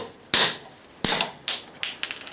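A ball peen hammer strikes a metal universal joint yoke on a Ford F-250 front axle five times with sharp, ringing taps, spaced unevenly and close by, the last few quicker and lighter.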